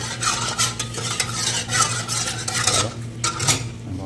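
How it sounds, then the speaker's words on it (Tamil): Strawberry-pink food colouring is stirred into a badusha sweet mixture with a utensil scraping around a bowl in quick, repeated strokes, close and fairly loud, with a low hum beneath and no voices. "ஸோ அப்படியே கலக்கி கொடுக்கலாம்"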